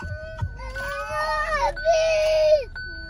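A young child wails in long, rising cries with a short whimper between them, close by and fairly loud.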